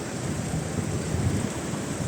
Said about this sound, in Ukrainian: Дощик пішов, Коломиї було гарно.